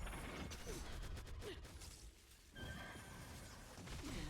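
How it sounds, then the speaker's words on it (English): A horse in a video game whinnies in short breathy bursts over mechanical clicking and rattling, with a brief lull midway before the noise returns. "Oh, the horse. The horse that does the flying boomerangs."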